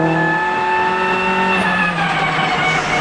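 A WRC rally car brakes on wet asphalt at a 2010 Bulgarian rally stage, its loud engine note holding steady then easing with a hiss of tyres, close and alone.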